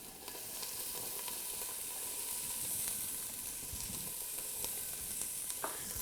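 Steady, even sizzling and frying hiss fills a pan as tomato paste and onions cook for marinara sauce, a constant close sizzle with faint clicks and stirring scrapes, no voices.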